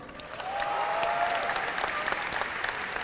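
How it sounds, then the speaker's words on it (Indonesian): An audience at a stand-up comedy roast breaks into steady, loud applause that swells after a brief build and holds for several seconds, with no talk over it. "Tepuk tangan dong."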